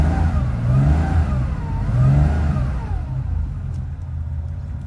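A 1980 Porsche 911SC engine runs on a cold start, a loud, close rumbling idle with revs rising and falling before it settles lower.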